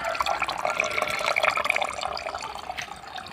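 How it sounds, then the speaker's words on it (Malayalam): Water poured through a small hole into a bottle, a close trickling, gurgling stream with drips that rises steadily and then eases off. "ആ ഹോളിക്കോട് ഇങ്ങനെ വേണം വെള്ളം ഒഴിക്കാൻ"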